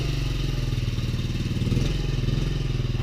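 A 1993 Honda Z50R minibike's small single-cylinder engine runs close by with a rapid, steady, throbbing putter that swells briefly midway, loud and alone.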